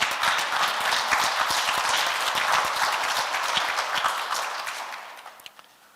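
Audience applause at a lecture on AI, dense steady clapping from a large seated crowd that carries on for several seconds before thinning out and fading toward the end.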